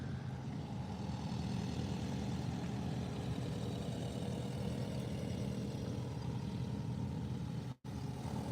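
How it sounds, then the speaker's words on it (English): An old VW camper van with a loud engine arrives, its steady, throaty rumble holding close and continuous, then cutting off abruptly near the end. "Old VW camper van just coming in with a loud engine."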